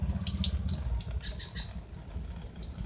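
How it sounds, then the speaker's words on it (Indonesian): NPK Mutiara Biru fertilizer solution poured straight onto a potted ornamental plant, a steady close splashing and trickling of liquid soaking the soil, continuous throughout with a low rumble underneath. "dikucurkan saja langsung sampai benar-benar airnya turun"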